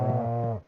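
A cow in Stardew Valley lets out a single short, low moo when petted in the barn, clear and close, with no talking over it.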